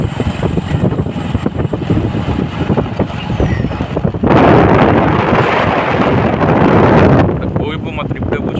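Cool wind blowing by a village pond buffets the microphone in a loud, rumbling rush that swells into a stronger gust midway, then eases back into a steadier blowing.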